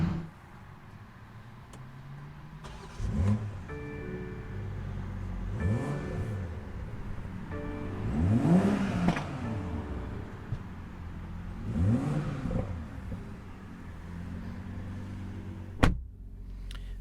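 A 2021 BMW M340i mild hybrid exhaust revving: several rising and falling engine swells heard from outside the car, with a sharp bark near the end and a low rumble idling between revs.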